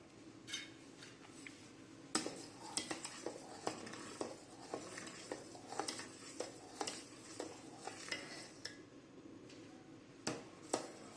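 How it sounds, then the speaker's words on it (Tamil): Boiling milk with its cream being stirred in a heavy-bottomed pot for palkova, a faint run of uneven scraping and tapping strokes over a soft bubbling hiss. "பால் நல்லா கொதி வர ஆரம்பிச்சிருச்சுங்க. இனிமேல் ஏடு படியும், ஏடோடு சேர்த்து அப்படியே கிளறி விட்டுட்டே இருக்க வேண்டியது தான்."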